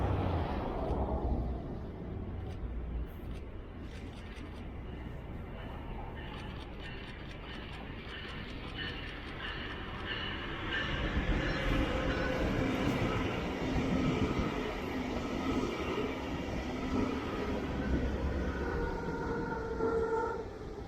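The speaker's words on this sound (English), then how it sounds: "My final catch was the original BrightRed arriving into West Palm Beach." The original red Brightline trainset arrives into West Palm Beach station, giving a continuous rolling rumble and rail noise with tonal whines that build and hold over about twenty seconds.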